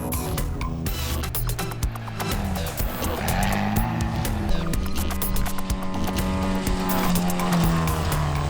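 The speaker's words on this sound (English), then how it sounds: "Nervous, tippy-toeing is the only way to describe a way to drive an open-wheel vehicle in these zero traction conditions." Open-wheel race car struggling in zero-traction conditions at a rallycross event in Mariendal, its engine revving and rising in pitch with scrabbling tire noise, loud and close throughout.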